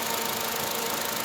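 A petrol i-VTEC four-cylinder in a 2011 Honda Brio V idles smoothly, a faint, even hum with a soft steady buzz and no variation across a brief moment.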